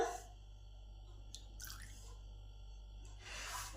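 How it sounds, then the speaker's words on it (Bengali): Buttermilk mixed with orange juice, plus oil, goes into a bowl for an eggless orange cake as faint, brief drips and small splashes over a steady low hum, quiet and close. "এবার butter milk with orange juice দিয়ে দিলাম, তার সঙ্গে তেলটা দিয়ে দিলাম"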